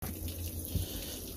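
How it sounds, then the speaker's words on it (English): Water from a hose or tap gushes on to feed a Mercury 950SS inline-six outboard motor, a steady close hiss of running water lasting a moment. "I'm gonna turn the water on"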